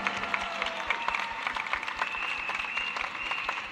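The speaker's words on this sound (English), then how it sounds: "Give them another big round of applause" Applause from a lunchtime political rally crowd at Fullerton, Singapore, greeting new election candidates, a brisk continuous clapping with scattered cheers, fairly close.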